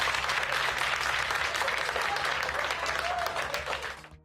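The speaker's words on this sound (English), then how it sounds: "A collective applause erupted from supporters in the courtroom as the decision was read." Supporters applaud in a courtroom as a verdict is read, a dense, steady burst of clapping that fills the room for about four seconds before tapering off at the end.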